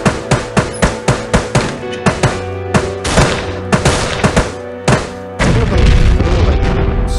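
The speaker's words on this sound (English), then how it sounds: "I'm guessing he's shooting" Gunfire from a cowboy on a roof in the zombie game Dead Ahead Zombie Warfare: a steady rhythmic series of loud booming shots, slowing and spacing out, then giving way to a dense rumbling wash of noise.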